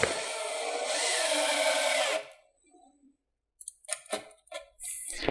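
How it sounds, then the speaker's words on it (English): A power driver toe-screwing a deck's outside rim joist into the edge of the beam, whirring loudly for about two seconds, then falling quiet, followed by a few sharp knocks and a brief final burst. "going to toe screw in that outside rim joist to the edge of the beam"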